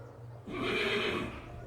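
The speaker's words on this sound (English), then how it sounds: "that was an invisible horse" A horse whinnies in the Sherlock Holmes vs Arsene Lupin video game, set on Baker Street in London. The neigh is brief and fairly loud, rising and trailing off over about a second with no talk.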